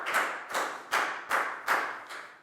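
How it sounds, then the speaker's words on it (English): Classroom applause for a student during a Year 4 English lesson, six evenly spaced loud claps in a steady rhythm, close and clear with no talking. "Big round of applause for Pat"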